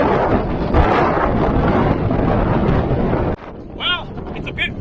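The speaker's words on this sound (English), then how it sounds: "Well, it's a bit windy" Blustery wind buffets an outdoor microphone with loud, continuous rumbling for about three seconds, then drops away abruptly, leaving quieter background with brief bird-like chirps.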